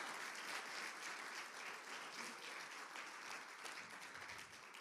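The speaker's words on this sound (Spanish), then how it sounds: "Denle un aplauso fuerte al Señor" Sustained crowd applause from a congregation during a church service, a dense, steady wash of many hands clapping throughout, loud and close with no break.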